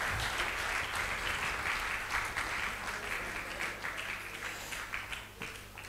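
Sustained applause from an audience at a football club's lifetime achievement award ceremony, a dense steady patter of many hands clapping close by for about six seconds with a low hum underneath, slowly thinning toward the end.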